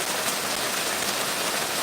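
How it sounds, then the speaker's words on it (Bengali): Heavy rain pours down in a dense, unbroken hiss, close and loud throughout. "প্রচণ্ড প্রচণ্ড পরিমাণে বৃষ্টি হচ্ছে"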